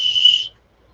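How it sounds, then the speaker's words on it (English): A vintage toy whistle blown once in a steady, shrill tone for about half a second, close and loud, then cutting off to near silence. "Whistle does work."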